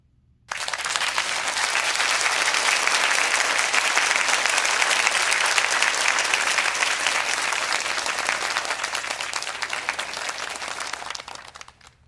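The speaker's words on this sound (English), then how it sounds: "Let's give these two lovely ladies a warm welcome of applause." Steady, dense round of applause from a crowd, starting abruptly and holding at an even level for about eleven seconds before tapering off, with no talking over it.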